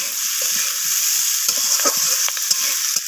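Green beans and potato pieces sizzle steadily in a pan of hot oil, with a broad continuous hiss and occasional sharper crackles and scrape-like stirring taps close by, no voices.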